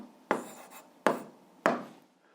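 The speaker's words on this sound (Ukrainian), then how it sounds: "Ну а зараз записуємо відповідь, пишемо відповідь." Three sharp taps a short stretch apart as an answer is written by hand during a physics exercise, each a crisp close knock with a brief decay, quiet between strikes, no talking.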